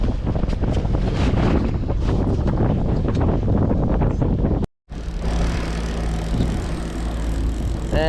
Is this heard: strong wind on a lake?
yes